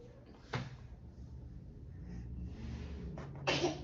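Two short, sharp sneezes, one near the start and one near the end, against a quiet room background.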